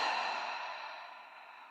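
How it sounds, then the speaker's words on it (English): A slow, soft exhale through the mouth during a chair yoga breathing practice, a single breath that fades gradually from near and clear to quiet. "inhale deeply through the nose and exhale through the mouth"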